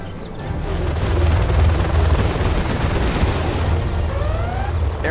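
A Helix helicopter in C&C Generals Zero Hour flies with a dense, steady rotor roar, loud and continuous throughout, with faint whooshing effects layered over it.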